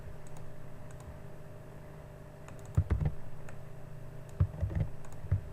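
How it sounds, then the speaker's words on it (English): Typing a name on a computer keyboard: a brief flurry of key clicks, then a pause and two more short bursts of keystrokes, close and moderately quiet over a steady low hum. "What we can do is type Matt Becker."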